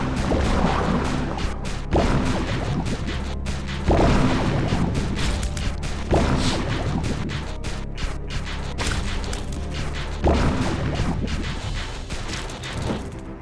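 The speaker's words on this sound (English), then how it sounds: "Wow, bombs everywhere." Bombs going off in The Binding of Isaac, a game: a run of heavy booming blasts lands about every two seconds, loud and near, each one followed by a dense crackling crash that spreads across a busy background.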